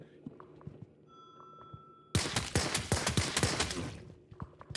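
Rapid bursts of gunfire in an isometric top-down Tarkov-style shooter game, quiet at first and then a loud, dense fusillade of sharp shots that continues to the end.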